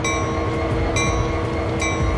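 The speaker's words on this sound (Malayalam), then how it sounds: "മണ്ടത്തരായി ട്രെയിൻ മൂവ് ചെയ്ത് പോയി." A train in a train-driving video game rolls along steadily, a loud continuous rumble with droning tonal hum and faint periodic clicks, with no talking over it.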